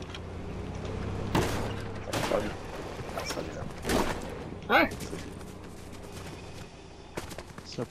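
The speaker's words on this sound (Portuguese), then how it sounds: "Opa, tô ouvindo tiro." Gunfire sounds out in a Fortnite match: several sharp shots and bursts at moderate distance, spread across the span, with game background noise and an occasional mechanical clatter in between.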